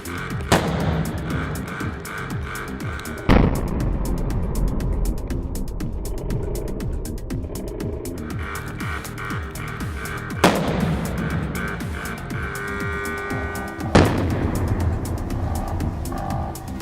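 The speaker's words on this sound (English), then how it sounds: "As the high current flows through the short-circuit copper wire, it vaporizes explosively." Arc fault test on an ABB MNS iS low-voltage switchgear module, where a short-circuit copper wire vaporizes explosively and an electric arc forms: several sharp, loud blasts stand out over a continuous harsh roaring crackle.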